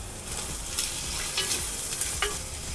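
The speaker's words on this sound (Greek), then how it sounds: "Προσθέτουμε το κρεμμύδι, το σκόρδο και την καυτερή πιπεριά." Onion, garlic and hot pepper sizzle steadily in a hot pan with a few brief stirring scrapes, a continuous close frying hiss with no talk.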